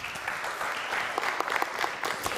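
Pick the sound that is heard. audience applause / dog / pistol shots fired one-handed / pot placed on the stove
audience applause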